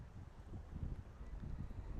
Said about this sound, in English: A very windy Stonehenge.